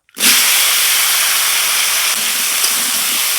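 A loud sizzle bursts out suddenly as cut potatoes hit a little hot oil in a kadai, then keeps hissing steadily and evenly.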